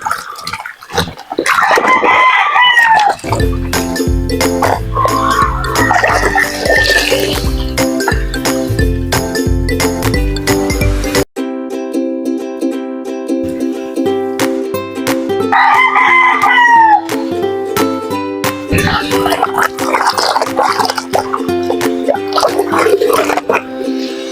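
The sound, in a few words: native chickens crowing and clucking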